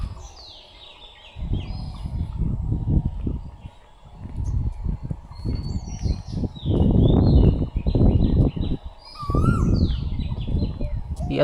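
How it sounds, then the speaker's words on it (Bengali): An Asian koel calls in the early morning along a village road, its rising notes mingling with scattered chirps of other birds at a distance, partly masked by loud, low rumbling bursts of nearby handling and movement noise. "দেখুন এখনো কোকিল ডাকছে।"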